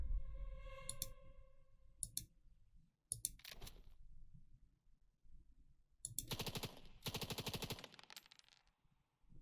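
Gunfire in the wargame video game Valor and Victory comes as short bursts of rapid machine-gun clatter separated by silent gaps, with a longer sustained burst near the end, crisp and close with no talk.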